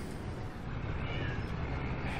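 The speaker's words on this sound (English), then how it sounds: "excuse the cat" A cat meows indoors, faint and somewhat muffled, a drawn-out plaintive call set against a steady noisy background hiss, with no talking over it.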